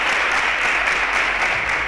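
Studio audience applause for quiz contestants at a school science quiz semi-final, a continuous, even wash of clapping at steady volume throughout.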